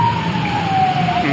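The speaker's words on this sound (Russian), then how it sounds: "Вы это слышите, бегают, ездят милиции, полиции и скорая" Emergency sirens from police cars and an ambulance wail along a city street in Zaporizhzhia, a loud steady rising and falling tone over traffic rumble.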